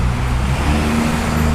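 Steady roadway traffic with heavy trucks rolling past on a town street, a continuous loud low rumble and engine drone filling the whole stretch with no break.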